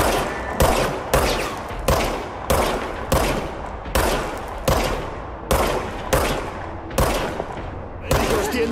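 Rapid bursts of video game gunfire, about a dozen sharp loud shots at a steady rhythm, each with a short decaying tail, close and alone with no talk.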